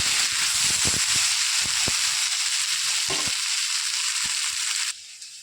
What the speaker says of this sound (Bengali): সবজিটা আমি ভাজা ভাজা করে নিয়েছি। এবার দিয়ে দেবো মাছ।